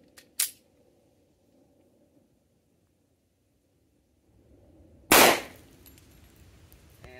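A Kimber Ultra Carry II pistol with a failure-to-feed fault, fired outdoors: two sharp, loud gunshots several seconds apart, each a brief blast with a short decaying tail, separated by quiet handling noise.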